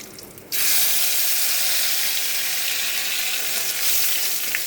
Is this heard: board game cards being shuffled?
no